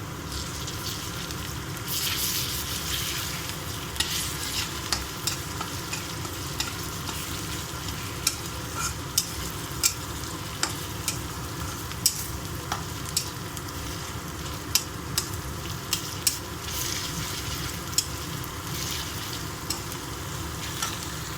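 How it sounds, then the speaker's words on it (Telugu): Ginger garlic paste stirred in a hot frying pan for a meal maker fry, with steady sizzling and repeated scraping clicks from the spoon, close and continuous throughout. "అల్లం వెల్లి పేస్ట్ అండి 1/2 స్పూను. కలిపేసుకుందామండి."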